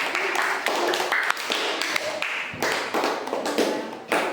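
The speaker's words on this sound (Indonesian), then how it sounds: "tepuk tangan untuk kelompok 4" A classroom of students applauds a student group, a brief patter of light, uneven hand claps and taps, fairly close and moderately loud, rising and falling over a few seconds.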